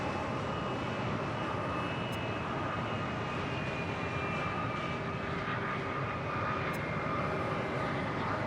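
A JetBlue Airbus A320 airliner on approach to land at Los Angeles International Airport gives a steady, distant engine roar and rushing drone that holds evenly throughout.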